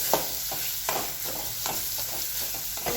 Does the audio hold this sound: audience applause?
no